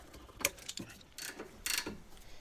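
A ratchet works bolts on the rear subframe of a Ford Mondeo during a bush replacement, giving short close bursts of metallic clicking and rasping in separate spurts with brief pauses between them, with no talking.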